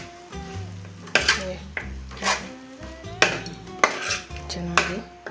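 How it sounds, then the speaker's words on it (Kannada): Chicken sukka, a Mangalore-style dry chicken dish with coconut, is stirred in a frying pan, with several sharp spatula scrapes and clanks against the metal over a steady sizzle, loud and close, alone without talk. "ಮತ್ತೆ ಚೆನ್ನಾಗಿ ಕಲಿಸ್ತೀನಿ"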